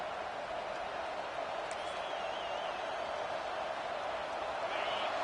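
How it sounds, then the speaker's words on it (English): A stadium crowd at a college football game roars in a steady, dense wash of cheering, loud and continuous throughout with a faint whistle rising above it. "Listen to this crowd just shaking the girders of this place, trying to help their defense."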